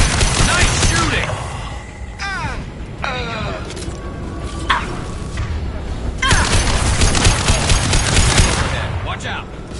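Mass Effect 2 combat brings dense volleys of gunfire and mechanical weapon sounds, loud and continuous, with sweeping synthetic tones and voices calling out between the shots.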